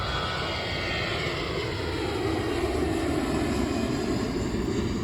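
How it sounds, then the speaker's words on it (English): An Allegiant Airbus A320 jet roars steadily through its takeoff, a continuous loud engine rumble with a broad hiss that swells slightly midway and holds without speech. "Classic Airbus A320 right there."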